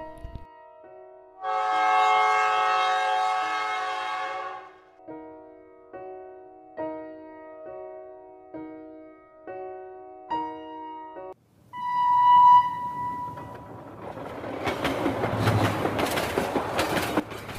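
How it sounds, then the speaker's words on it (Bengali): A train horn sounds at a railway station in a Bengali horror cartoon, with a long blast followed by a string of shorter tones, then a loud, noisy rush of a passing train with no voices. "স্টেশনেই ট্রেন আসার জন্য অপেক্ষায় রইলাম"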